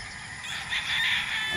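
Gamefarm chickens, hens and pullets, call out with a brief raspy squawking, loud and close over steady background noise.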